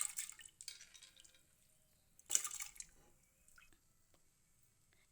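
Washed toor dal being poured into a pot of water while making sambar, soft wet splashes and drips in a few close bursts, with quiet pauses between, no talking.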